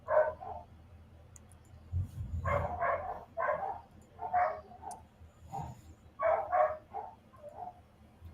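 Several dogs bark from a kennel room in repeated clustered bursts, muffled and somewhat distant, with short pauses between volleys.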